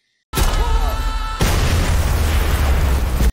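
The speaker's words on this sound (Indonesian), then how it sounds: "Hasan telah memasang bom di tubuhnya dan meledakkan itu di tengah-tengah Atis" A sudden loud suicide-bomb explosion in a film bursts out after a brief silence, followed by a sustained rumbling roar with crackling debris that fills the rest of the moment.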